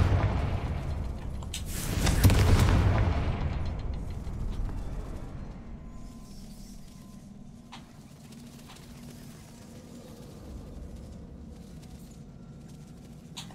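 A Confringo spell in the Hogwarts Legacy video game lets out a single loud blast about two seconds in, then fades into a quiet ambient hum with faint scattered ticks.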